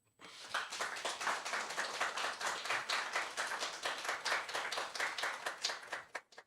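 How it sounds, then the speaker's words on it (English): A small audience claps steadily in close, evenly spaced strokes after a poetry reading, the sound holding at the same level for about six seconds and then stopping abruptly, with no talk. "Take a round of applause for Abby, please."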